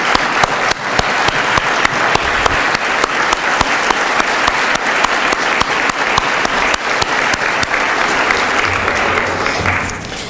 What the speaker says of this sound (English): we will give them all a round of applause